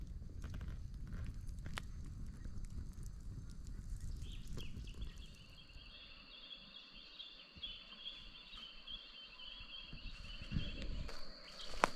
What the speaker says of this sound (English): that whole floodplain's just alive. Birds, bugs. It's so loud.